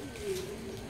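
A pigeon coos softly close by, a faint low warble heard under people talking.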